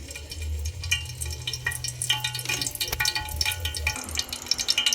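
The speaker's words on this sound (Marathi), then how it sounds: "तेल छान गरम झाल्यानंतर तेजपत्ता टाकायचा 2-3." Two or three bay leaves dropped into hot oil in a pan over a wood-fired stove, giving a steady close sizzle with light stirring clinks throughout.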